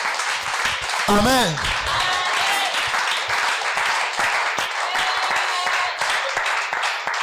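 A church congregation cheers and claps during a sermon: a steady crowd roar with applause runs throughout, a voice calls out over it, and talk continues on top.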